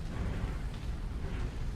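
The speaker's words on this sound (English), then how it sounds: "Take that nuclear explosion to the face" A nuclear explosion in the mech combat game MechWarrior 5: Mercenaries gives a dense, continuous roar of rumbling blast noise that stays loud and steady throughout.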